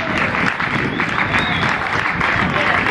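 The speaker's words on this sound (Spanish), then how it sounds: "Fuerte el aplauso para Javier," Crowd applauding a duathlon award winner at an outdoor race ceremony, loud continuous clapping close by with faint voices mixed in.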